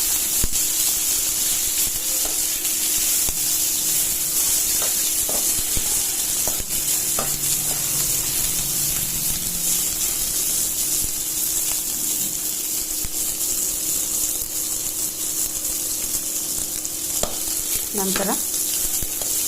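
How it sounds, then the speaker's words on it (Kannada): Dosa batter mixture fries in oil in a pan with a dense, steady sizzle and scraping stir strokes, close and loud throughout, with one brief spoken word near the start. "ನಂತರ ಇದಕ್ಕೆ 1 ಟೀ ಸ್ಪೂನಷ್ಟು ಎಣ್ಣೆಯನ್ನು ಹಾಕಿ ಮತ್ತೆ ಫ್ರೈ ಮಾಡ್ತಾಯಿದ್ದೀನಿ."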